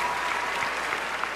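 A studio audience claps in a brief, steady burst of applause, close and fairly even throughout.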